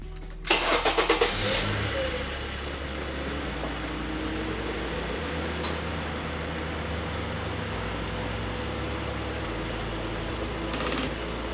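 A 2011 Honda Accord engine cranks briefly in a quick stutter, catches, then settles into a steady, even idle that runs on for several seconds.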